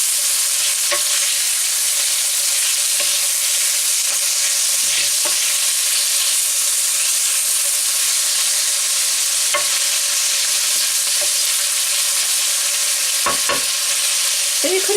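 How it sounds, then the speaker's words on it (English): Chicken livers brown gently in butter or ghee, giving a steady, close sizzle that holds for the whole stretch, with a few soft clicks and scrapes of a utensil stirring in the pan. "we just really want it to brown it softly in the butter or the ghee"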